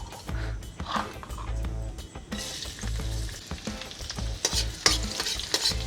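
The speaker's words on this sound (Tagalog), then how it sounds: "Prito na po tayo ng bawang." Loud close sizzling of garlic frying in hot oil, with scraping and stirring noises from a utensil against the pan.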